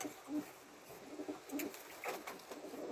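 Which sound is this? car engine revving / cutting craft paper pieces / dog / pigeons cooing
pigeons cooing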